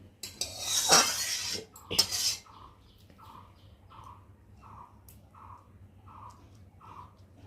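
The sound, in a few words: serving rice with utensils and dishes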